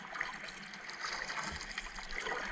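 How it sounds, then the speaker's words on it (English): Rapids on the Orange River rush and trickle in a steady, moderately loud wash of water close by, with no voices over it. "Lots of exciting rapids."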